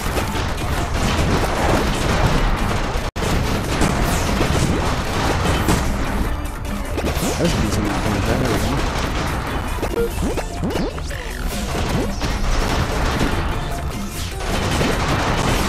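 The default gun in the Molemen Must Die video game fires straight shots in a dense, continuous barrage of loud crashing blasts and booms, with game effects layered throughout.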